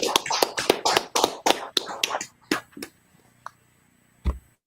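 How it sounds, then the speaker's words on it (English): Hands clap in a rapid rhythmic burst during a class gathering, with about a dozen sharp, loud claps that slow and thin out into a few scattered claps with quiet gaps between them. "Clap it up, Akim."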